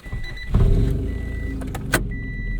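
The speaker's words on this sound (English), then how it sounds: "let's go ahead and hop on the road and see how the second gen Acura Integra drives" A 1990 Acura Integra RS with 400,000 miles sets off with a low engine hum rising under cabin clicks and a short whine that may come from the power windows. The sound is heard from close range inside the car.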